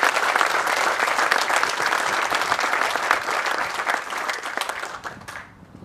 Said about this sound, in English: So if I could get a round of applause for all these participants.